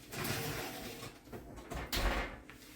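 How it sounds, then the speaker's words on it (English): An oven door swings shut with a dull thud after a loaf of Italian bread goes onto the bottom rack of an oven preheated to 410 degrees, the close coming as a single muffled knock amid soft kitchen rustle. "I'm going to stick it in the oven now."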